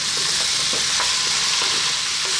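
Vegetables for a vegan stew sizzling over medium heat in a pot, a constant hiss of frying with a few soft stirring scrapes, close and fairly loud for a couple of seconds with no talk.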